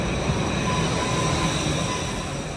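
A Tashkent subway train rumbles along, a loud, continuous roar of wheels on rails with a faint high squeal running through it.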